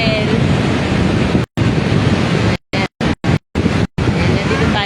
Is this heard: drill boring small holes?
no